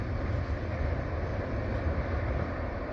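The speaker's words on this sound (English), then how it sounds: "That's our first southbound train of the day." A southbound CSX freight train rumbles past as a steady, broad roar of rolling cars, heard without any talking.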